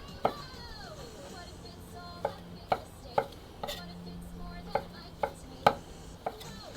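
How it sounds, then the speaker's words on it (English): A knife chops crab sticks into strips on a cutting board, about a dozen crisp, separate knocks at an uneven pace, close and clear over quiet room noise. The cutting is for a ramen noodle bowl. "I'm going to chop this just into a few strips"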